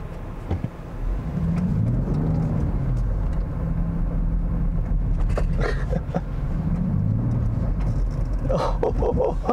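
A 2021 Land Rover Defender 110 drives over a few inches of slippery snow, its engine droning steadily and close with rising and falling revs as it slides, alone without talk.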